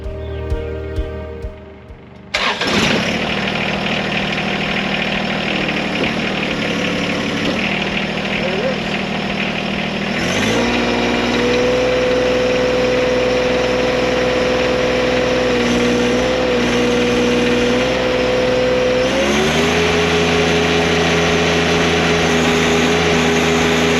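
A tractor fitted with a hydraulic pressure gauge cranks and starts, then settles into a loud, steady idle, rising in pitch a couple of times as the revs change, with a voice speaking over it.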